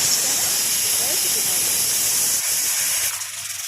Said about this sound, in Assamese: এয়া চিটি মাৰিলে মই এতিয়া প্ৰেছাৰ কুকাৰ অফ কৰি দিম।